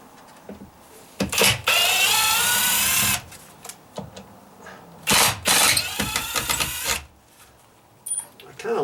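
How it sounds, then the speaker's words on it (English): A cordless drill with a ratcheting clutch whirs in two bursts during deck dry-rot repair, a long steady run then a shorter one, with quick ratcheting clicks between them and some talking in the background. "I kind of like this drill because it has the ratcheting thing."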